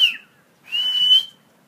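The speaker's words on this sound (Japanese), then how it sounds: "口笛の練習にもいいですね。" In Nago, a person whistles two steady, high, clear tones, a short one followed by a longer held note after a brief pause. Each note sounds close and fairly loud, with no talk.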